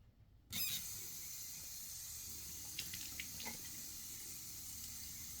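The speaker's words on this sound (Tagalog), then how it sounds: "Wash natin muna yung mukha natin" A tap starts running for face washing: water switches on abruptly and flows in a steady close hiss, with a few faint clinks and splashes midway.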